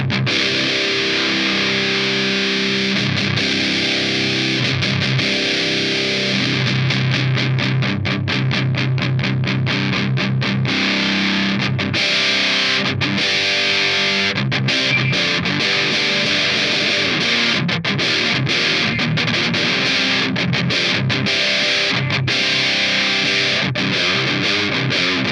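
An electric guitar plays through a ProCo Roadkrill distortion pedal, producing a loud, continuous, fuzzy, heavily distorted tone with strummed chords and rhythmic chugs. No voices are heard.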